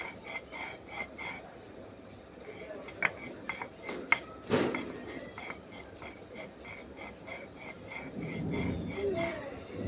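Soaked chana dal is ground into a fine paste, giving a rhythmic scraping and clattering with repeated knocks and a louder thump midway, close by, while people talk over it.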